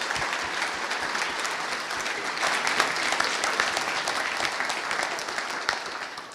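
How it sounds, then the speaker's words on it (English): Sustained, dense applause from a conference audience at a BSidesMunich main stage session, steady and full for several seconds, honoring a presenter named Tanya. "Can we have a louder round of applause, please, for Tanya?"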